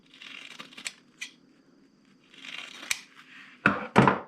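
Scissors slice through heavy 1000 denier nylon fabric in several short, crisp snips, separated by pauses, ending with two louder close cuts.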